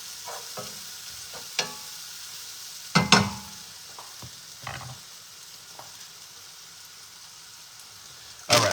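Mushrooms stirred in a hot non-stick skillet give a soft, continuous sizzle broken by a few sharp scrapes and clacks of the utensil against the pan, at close range with no talk.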